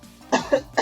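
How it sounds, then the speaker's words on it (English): Three short, sharp coughs from a single person in quick succession, close and fairly quiet. "Sorry, I will be coughing."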